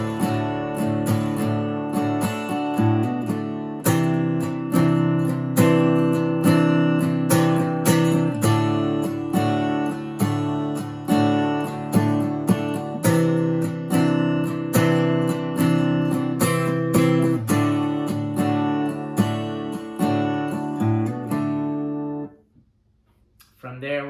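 Guitar strumming the pre-chorus chord progression of a song, played slowly and steadily without singing, chords ringing close and clear before stopping near the end.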